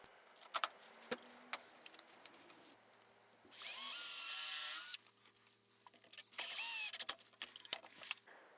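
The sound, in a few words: power drill driving screws into a cross cut sled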